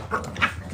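A dog gives a short, nasal whimper, two brief whiny rises over a low rumbling background, close by.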